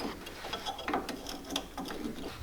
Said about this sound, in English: We're going to go ahead and get this in here, the spanner wrench.